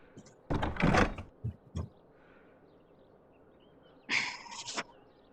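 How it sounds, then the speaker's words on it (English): A wooden table is dragged and bumped against a door indoors, with two loud scraping bursts separated by a short knock and a quiet pause. "Help me move that table against the door."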